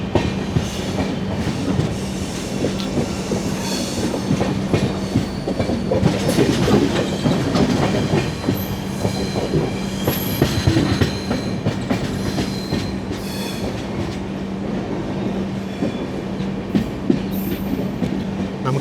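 The 12675 Kovai Express rolls along the main line near Tiruppur, heard from inside an AC chair car as a steady rumble with rhythmic clickety-clack of wheels over rail joints and occasional faint squeals.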